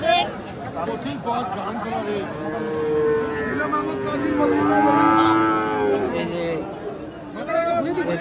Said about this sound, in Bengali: এদিকে কিন্তু অনেক গরু আছে